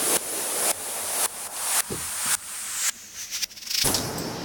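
Filtered noise swept in bursts with a rising high-pass filter, produced in Bitwig Studio as a flutter effect; hissy whooshes chop on and off in rhythmic blocks and thin toward bright, airy noise near the end, with no voices.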